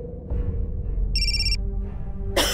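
A phone rings with a brief electronic trill, a short bright burst amid low background rumble, cut off by a sharp noise at the end.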